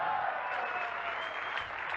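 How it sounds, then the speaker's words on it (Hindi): An audience at a business meeting claps and cheers, a steady wash of dense applause mixed with shouting voices throughout. "ये चिल्ला रहे हैं, तालियां बजा रहे हैं, नाच रहे हैं"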